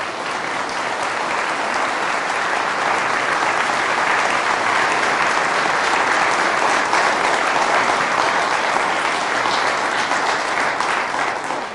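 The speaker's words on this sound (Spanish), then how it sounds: "Fuerte ese aplauso al Señor Jesús." Loud, dense applause from a church congregation honouring Jesus during a Catholic sermon, sustained and even for about twelve seconds without a break.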